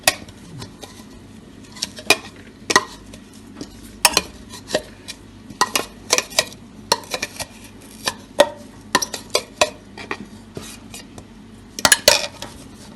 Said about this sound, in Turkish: Şimdi kabımıza dökeceğiz.